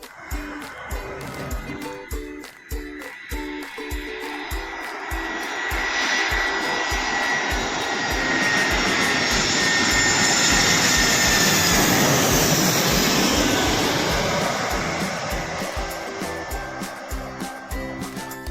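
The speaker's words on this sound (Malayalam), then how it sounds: "അപ്പോൾ ഒരു ഫ്ലൈറ്റ് വരുന്നുണ്ട്" A jet airliner arriving at an airport, its engine roar building from a distant rumble to a loud, sustained whine and rush that peaks as it passes overhead, then slowly fades, with faint wind buffeting throughout.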